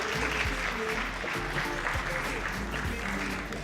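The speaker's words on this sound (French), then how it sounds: "Des applaudissements encore, mesdames et messieurs" Wedding guests at a reception applaud together in a steady, fairly loud wash of many hands, with a low-pitched musical hum underneath throughout.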